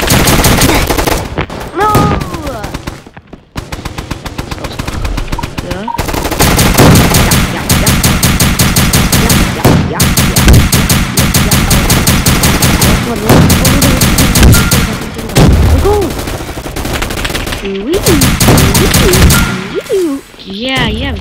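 Rapid, loud gunfire bursts in a game match, dense automatic volleys running almost nonstop with brief pauses, while a voice shouts briefly over the shots.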